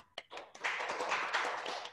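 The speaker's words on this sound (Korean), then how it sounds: "우리 큰 박수로 응원의 박수 보내드리겠습니다" An audience at a company sales meeting applauding: a couple of isolated claps, then a full, even burst of clapping that carries on steadily.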